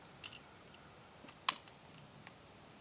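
Cartridges being pressed one by one into the magazine of a Kel Tec PR-5.7 pistol, giving a few faint, sparse metallic clicks with one sharper snap in the middle and a quiet background.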